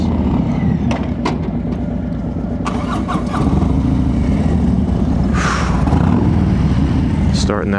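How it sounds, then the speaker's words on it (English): A Harley-Davidson Road Glide ST motorcycle engine starts and settles into a loud, steady low rumble close by, with a faint voice in the background. "Starting that bike never gets old."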